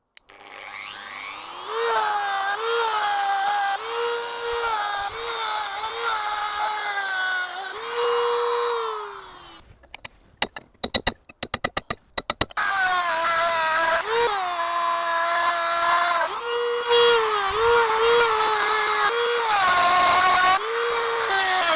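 A cutting disc grinding into the rear axle hub seal of a Toyota Hilux Surf, a loud high whine that dips in pitch under load, breaks off into a burst of rapid clatter midway, then resumes its steady scream.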